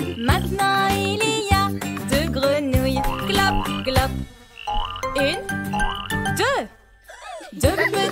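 Cartoon frog croaks sound within a bouncy French children's nursery song, repeated throaty calls mixed with melody, chimes and a singing voice.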